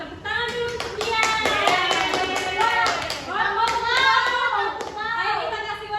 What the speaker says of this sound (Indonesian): Tepuk tangan dulu untuk Dian.